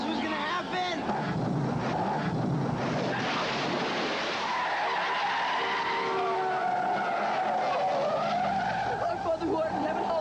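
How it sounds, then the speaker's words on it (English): A car skidding as the driver loses control, long squealing tyre screeches sweeping and wavering over several seconds amid engine noise, with frantic shouting from people inside. "he loses control of his grandfather's car"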